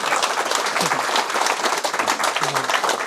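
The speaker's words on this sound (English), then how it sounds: "clapping a round of applause for the author of this book" Audience applause at a football writing festival for a book's author, a dense, lively burst of many hands clapping continuously, with some voices mixed in beneath.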